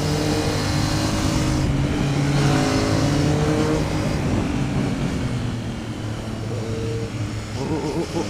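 A 2003 Kawasaki Z1000 motorcycle accelerating hard along a road, its engine note climbing steadily and holding loud and close throughout, with a brief dip before it pulls again.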